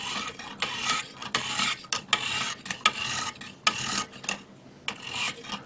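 A knife blade is drawn back and forth across a medium whetstone in quick, close gritty scraping strokes with short gaps between them.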